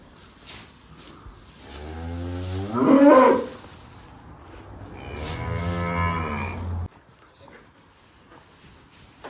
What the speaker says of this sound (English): Crazy cows.